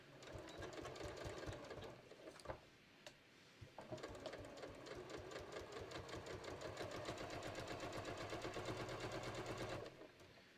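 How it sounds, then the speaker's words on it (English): A sewing machine stitches the waistband of a pair of shorts at a half-inch seam, running in a rapid, even mechanical rattle with a brief pause near the start, then stopping at the end; close and fairly quiet. "So I'm going to sew it at 1/2 inch."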